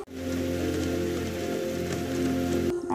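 Steady rain pattering densely on surfaces, loud and constant throughout, then cutting off abruptly just before the end.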